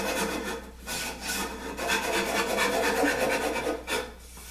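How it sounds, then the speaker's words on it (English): Rhythmic rasping strokes of sandpaper on wooden pub table stools, repeating back and forth at close range with brief pauses between passes. "I wasn't going to bore you with any more sanding"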